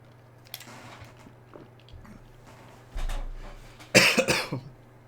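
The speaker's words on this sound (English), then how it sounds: "I took that drink and now I need to cough" A few muffled close-up coughs and throat noises, ending in a louder harsh cough burst; no talking.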